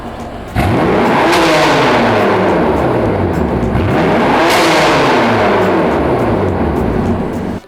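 A BMW M4 (F82) convertible with a performance silencer revs hard twice, each rising to a roaring peak and falling back, with a throaty exhaust growl close by.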